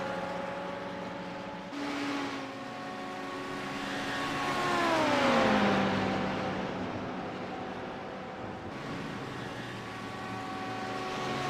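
Ferrari race car engine in a sim racing game at Spa, droning steadily on the rev limiter with a harmonic whine that dips and swells midway, loud and continuous without talk.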